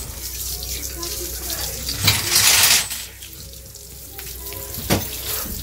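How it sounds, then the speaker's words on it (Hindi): Water is poured and splashed around an animal enclosure on a hot summer day, a steady hiss with louder splashing bursts near the middle and a brief splash toward the end, close by and without talk. "इसी तरीके से जहाँ जहाँ सब जगह पर अब मैं पानी डालूंगी"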